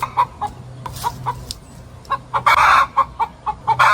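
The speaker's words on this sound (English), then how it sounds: "I never realized chickens were so talkative" Backyard chickens clucking in a lively, irregular series of short calls, some loud and near, with bursts clustering toward the end amid outdoor yard ambience.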